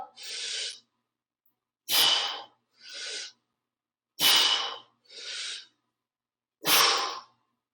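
Forceful breaths around an overhead press: six close, audible breaths with silent pauses between, louder sharp exhales alternating with softer ones in a steady rhythm, no talking.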